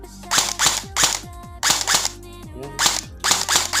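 Spitfire Tracer airsoft rifle firing seven or eight sharp, loud shots in short uneven bursts, each crack followed by a brief falling whine, with no talking.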